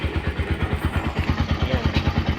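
Bajaj Pulsar 200NS motorcycle with a racing CDI, idling nearby in a quick, even putter of steady low pulses, alone with no talk.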